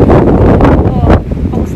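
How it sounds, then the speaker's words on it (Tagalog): Strong gusting wind buffets the microphone near Tokyo Tower, a loud continuous low roar with surges throughout, with some faint talk mixed in. "Oh my God, ang lakas ng hangin."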